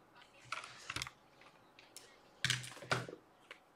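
Typing on a Drop mechanical keyboard comes as clustered keystroke clicks in short irregular bursts, close and crisp, with pauses between runs.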